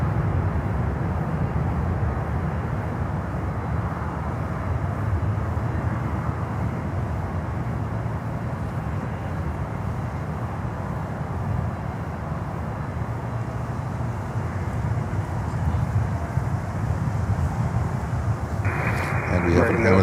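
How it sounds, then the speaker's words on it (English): An Amazon Air cargo jet climbs out from runway 8 right at Miami airport, producing a steady, loud broadband roar that holds without a break from start to finish. "And we have an Amazon Air climbing out here on runway 8 right"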